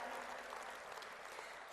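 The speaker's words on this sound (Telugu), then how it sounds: "ఒక్కసారి గట్టిగా చప్పట్లతో వాళ్ళందరికీ కూడా థ్యాంక్ యూ తెలియజేసుకుందాము" Sustained audience applause at a World Telugu Federation conference, a dense steady wash of clapping that stays even and fairly loud throughout with no clear voices.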